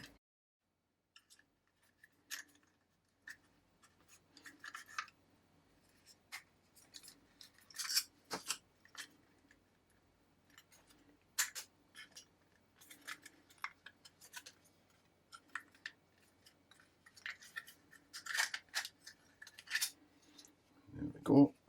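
A screwdriver prying the metal subframe out of the slide of a Tokyo Marui Desert Eagle gas blowback airsoft pistol, giving sparse, sharp clicks and scrapes of metal on plastic, close and fairly quiet, with short pauses between them.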